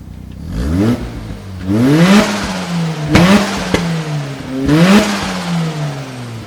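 A 1993 Mazda RX7 revs repeatedly, its engine note climbing and falling in about four loud, close bursts over a steady idle, with no talking.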